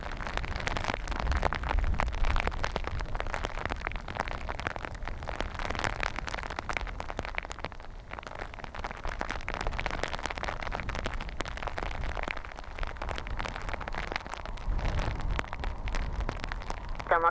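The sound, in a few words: heavy rain with hailstones at Dublin Airport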